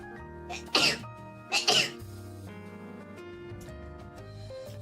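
Two sharp sneezes in quick succession, loud and close, over soft background music with no talking.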